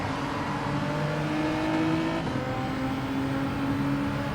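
A high-pitched Ferrari racing engine in Gran Turismo 7 drones and revs continuously, buzzing steadily like a hornet's nest with slight shifts in pitch, loud and unbroken throughout.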